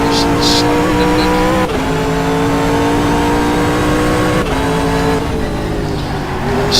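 A GT race car in a racing video game, its engine droning loudly and continuously through two gear changes, with tire squeal layered over the steady roar.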